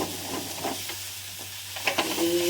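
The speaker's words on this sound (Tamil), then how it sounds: "எண்ணெயில் போட்டு வதக்கி" Banana flower fries in oil in a pan, a soft sizzle with light stirring scrapes, fairly quiet and close.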